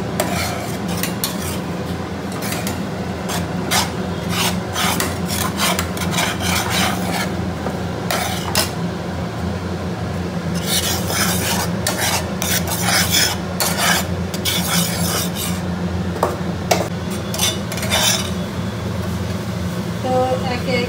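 Maggi noodles boil with spices while an egg fries in a pan, with busy scraping and stirring of a utensil against the pan and a background sizzle, close and continuous, with voices talking over it.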